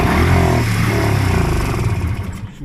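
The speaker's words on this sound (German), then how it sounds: "So, da wollen wir mal starten, selbst anspringt." A 1977 Vespa TS 125 (VNL3T) scooter with a two-stroke engine fires up and runs close by, its loud, steady engine note later easing off slightly, with no talk over it.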